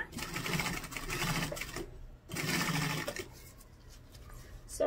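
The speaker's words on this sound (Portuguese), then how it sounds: "eu posso passar uma costurinha geral" A sewing machine stitches a rounded fabric toiletry bag in close, fast mechanical bursts, pausing briefly between runs of rapid needle chatter.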